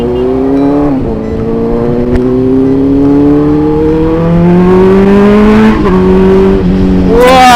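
A motorcycle engine revs while riding, loud and close, its pitch climbing through several gears with brief dips at each shift and a final sharp rise.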